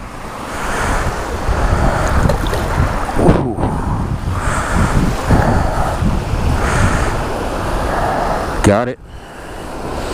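Surf breaking on the sandy Lake Erie shore in Ontario, a steady wash of waves with gusting wind buffeting the microphone throughout, loud and close; a person briefly exclaims and speaks near the end.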